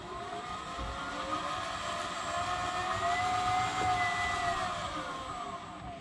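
An electric motor on a heavy full-keel cruising sailboat running at about half throttle: a steady whining tone with a faint pitch drift, over constant water and hull noise, with no talking.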